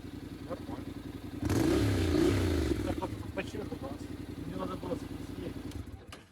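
A motorcycle with its stock Japanese exhaust revs up sharply, then settles into a rough idle with a burbling exhaust, with some voices faintly audible beneath it.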